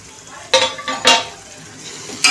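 Tomatoes stirred and sautéed in a hot pan with ginger-garlic paste, steady soft sizzle under three sharp scraping strokes of a spoon against the pan, close and fairly loud.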